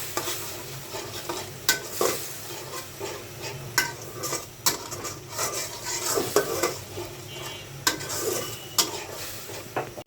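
Spice paste with salt, dried chili, cumin, garlic and green chili paste frying in a pan, steady sizzle under repeated scraping stirs of a utensil against the metal, loud and close with no talking.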